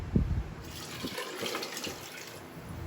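Soup pours and splashes briefly into a pot, a soft wet sloshing with a faint background hum.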